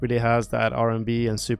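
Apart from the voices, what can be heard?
No everyday noises stand out.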